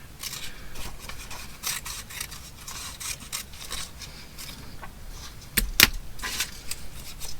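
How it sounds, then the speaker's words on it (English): Scissors snipping a paper verse out of a craft sheet, a series of quiet crisp cuts and paper rustles close by, with a louder snip and rub near the end. "So I'm going to cut this one out."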